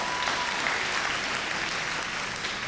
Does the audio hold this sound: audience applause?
yes